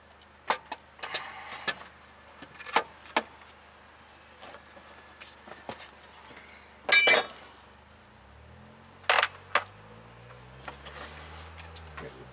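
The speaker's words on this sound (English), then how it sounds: "Let's put the alternator back in." A car alternator being fitted back into place, with sparse metallic clinks and taps of parts and tools at irregular intervals over low background quiet, one longer rattling burst midway, no speech.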